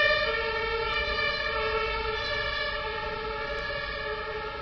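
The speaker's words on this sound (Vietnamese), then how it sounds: "chúng ta chờ một tí cho cái xe cứu thương này nó đi" An ambulance siren wails loud and steady with a bright, tonal sound that holds for several seconds as it drives past, with a low traffic rumble underneath and no voices.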